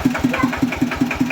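A tractor engine putters in a fast, even rhythm of low thumps as it revs, close by and steady, with no voices.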